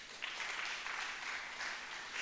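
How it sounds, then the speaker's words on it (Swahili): A church congregation claps together in a brief, even burst of applause that sounds moderately distant and rather faint, with no voices on top. "Pigia Yesu makofi"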